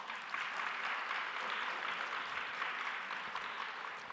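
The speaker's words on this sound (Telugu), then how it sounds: "యోబు కొరకు గట్టిగా చప్పట్లు కొట్టండి." A congregation at a church sermon claps together loudly, a dense, steady burst of applause that holds at an even level for about four seconds with no speech over it.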